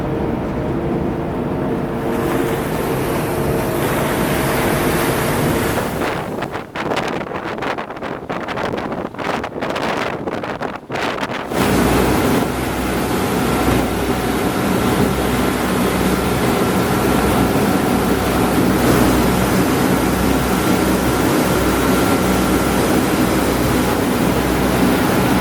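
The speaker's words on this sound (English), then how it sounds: "we're back on the ferry" A New York ferry crossing open water: a constant low engine rumble and splashing wash mixed with heavy wind buffeting, a calmer stretch midway before the rumble and rushing water swell again, with no talking.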